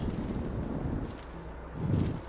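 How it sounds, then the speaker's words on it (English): Wind blows across an alien landscape in the Astroneer video game, a steady low rushing that holds throughout and swells into a stronger gust near the end. "It's so windy here."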